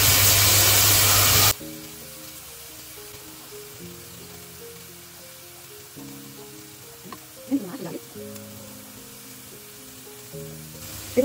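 Pork belly sautéing in a pan for sinigang starts as a loud hiss and then settles into a faint, steady sizzle under soft background tones, with one brief clatter near the end.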